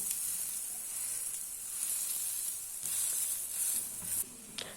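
Adai batter cooks on a tawa over medium heat, giving off a steady bright sizzle that swells and eases in soft waves, close up and with no one talking.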